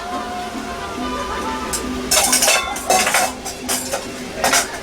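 Taco meat with paprika and chili powder being stirred in a pan, giving clinking and scraping utensil sounds against the cookware, a few louder bursts between steadier background hum.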